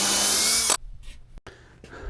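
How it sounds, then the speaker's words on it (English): A power drill fitted with a screw bit grinds into scrap wood during an Adirondack chair build, a loud steady whir that stops abruptly, followed by short scraping and rubbing noises. "Trying to drill a hole with a screw bit."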